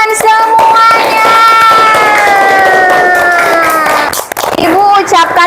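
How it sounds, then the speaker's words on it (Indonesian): Children in a classroom cheer and clap loudly together, a dense burst of shouting and applause over a rising tonal sound, with an adult voice talking over it. "Tepuk tangan untuk kalian semuanya."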